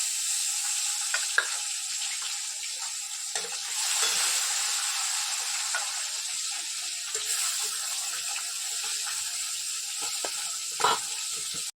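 Tilapia fish coated in turmeric and salt fries in oil in a pan, producing a loud, constant high hiss and crackle with occasional bubbling pops and light scraping, no voices present.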